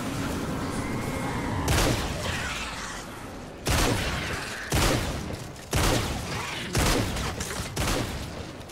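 Shotgun blasts in the Fortnite video game during a horde base-defense match, five or six loud booming shots spaced about a second apart over continuous game noise.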